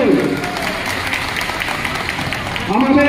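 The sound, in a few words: audience clapping for candidate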